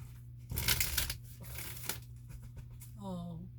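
A deck of cards being shuffled close by, a quiet riffling and crinkling rustle in short bursts over a low steady hum, with a voice speaking briefly at the end.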